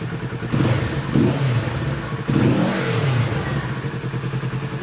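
A 2026 Kawasaki Z650 S motorcycle engine, warmed to about 60 degrees, idles and then revs up twice, each rise sharp and close before falling back to a steady throbbing idle.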